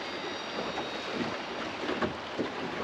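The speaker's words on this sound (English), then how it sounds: "Just hear that water gushing through there." Water rushing through a river on the Fitzroy River in Western Australia, heard from about three feet deep in the current as a steady, close wash with wind noise over it.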